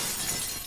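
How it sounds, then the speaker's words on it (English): Window glass shattering in a video game, a short loud burst of breaking glass that fills the whole moment without a pause. "Then I gotta break the window."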